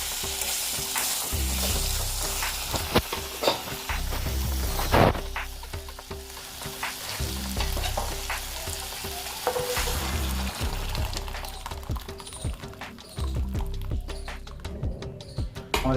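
Meat for haleem is stir-fried in a small wok, with a steady, close sizzle broken by repeated scraping strokes of a spatula against the metal.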